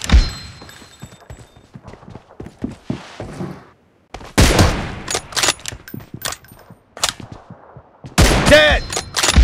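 PUBG gameplay gunfire arrives as loud, sharp bursts of rapid shots in clusters separated by brief lulls, close and punchy.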